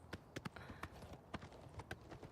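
Horse hooves clip-clop in Oblivion Remastered, a series of sharp, fairly close hoofbeats in an uneven trotting rhythm, with no talk over them.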